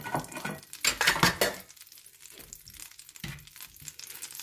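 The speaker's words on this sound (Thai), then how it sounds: "สาวจะละลายเนยก่อน" Butter melting in a frying pan before cooked spaghetti goes in. A burst of clattering pan sounds comes first, then a quiet, steady sizzle continues close by.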